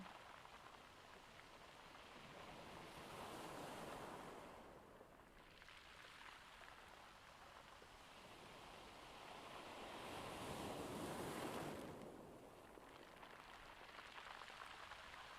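Soft ocean waves wash in and recede in slow swells, a broad hissing surf rising and falling twice, faint and distant with no voices.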